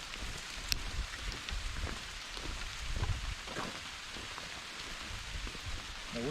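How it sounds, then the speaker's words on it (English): Steady rain falls on a forest canopy along a mountain hiking trail, a soft continuous patter with scattered drips, heard faintly and evenly throughout. "As the rain is becoming more steady"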